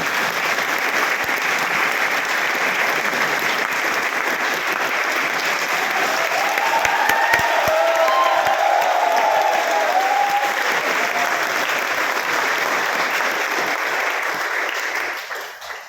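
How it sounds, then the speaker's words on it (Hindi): Sustained audience applause at a motivational talk, steady and dense clapping from a large crowd that holds at full strength for about fifteen seconds before tapering off at the very end. "देखिए भैया ताली बजा रहे हैं, आप लोग नहीं बजा रहे हैं।"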